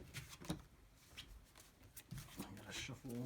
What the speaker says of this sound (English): gotta shuffle.